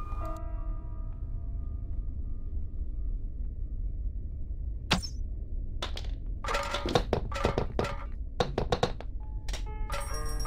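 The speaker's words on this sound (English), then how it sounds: "Make sure you get a fresh tranquilizer, that way you can shoot the gas can off of the top shelf." In the Granny horror game, a tranquilizer shot knocks a gas can off a top shelf: one sharp hit, then a scatter of clattering knocks over a steady low game hum.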